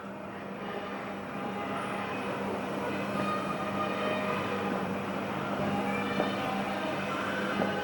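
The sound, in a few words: model train running in toy and model museum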